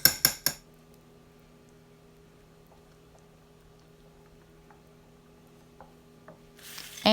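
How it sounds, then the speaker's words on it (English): Three sharp utensil clinks against a slow cooker of baked potato soup as a quarter cup of sour cream is added, then a long near-silent stretch with faint taps, ending in a louder scraping stir. "Now I'm going to add 1/4 cup of sour cream."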